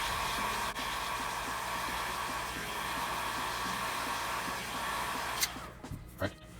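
Heat tool blowing hot air onto small Bowsette crown horn pieces, a steady close roaring whoosh that runs for several seconds, then cuts off with a few clunks and handling knocks.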